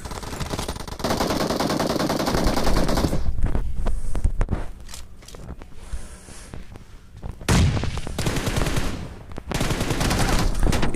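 Sustained bursts of rapid automatic gunfire in Battlegrounds Mobile India, loud and dense, broken by a few seconds of sparser single shots before resuming.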